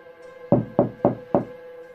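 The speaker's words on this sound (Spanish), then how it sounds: "tocaron a su puerta" Four firm knocks rap on a door in quick succession, close and hollow, over a faint steady hum in an otherwise quiet room.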